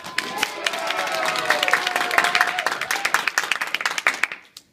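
A crowd claps together in a burst of applause that swells, patters on for several seconds, then tapers off into silence.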